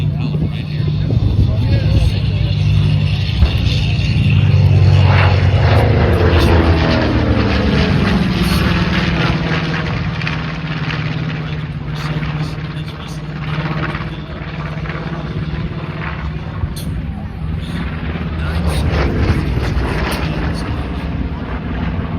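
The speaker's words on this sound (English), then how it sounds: "these historic military aircraft, vintage military aircraft, really remarkable to see them all in one place" A vintage military warbird propeller aircraft flies past at an airshow at MCAS Miramar, its engine drone swelling and fading over about twenty seconds, with a commentator talking over it.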